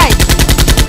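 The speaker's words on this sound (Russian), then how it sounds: "Стреляй, стреляй!" Rapid bursts of close, loud gunfire crack out in a steady automatic rhythm, about nine evenly spaced shots in under a second, in a staged skit set among garages.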